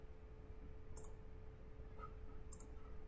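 Computer mouse clicks while working in the OnShape CAD program, two faint, sharp clicks about a second and a half apart in a quiet room, with no talking.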